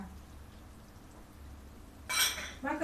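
Thai crispy pork salad is tossed in a bowl, with utensils clinking and scraping loudly against the dish in two short bursts near the end after quiet background noise.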